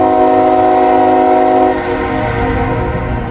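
A train rolls past in Hamilton, Ohio, a loud sustained horn blast sounding over the rumble of the cars before the horn cuts off and the rolling continues.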